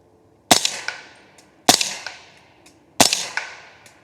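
Three sharp gunshots from a .300 Blackout rifle firing subsonic rounds about 45 yards away, evenly spaced about a second and a quarter apart, each followed by a short echoing decay.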